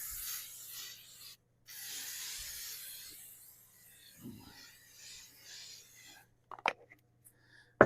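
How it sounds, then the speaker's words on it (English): Two bursts of hissing cooking spray onto chicken wings, close and moderately loud, separated by a short pause, followed by light clicks and handling noises. "let's hit it with the old spray again"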